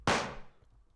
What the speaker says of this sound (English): So altogether, this is our gunshot sound.